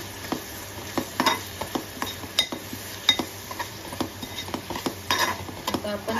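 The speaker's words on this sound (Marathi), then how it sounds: "पूर्ण सगळं मिक्स करून घेऊया" Turmeric and salt being stirred into a pot for a Koli-style clam curry, with the spoon clinking and scraping against the metal in quick irregular knocks, close and fairly loud over a low steady hum.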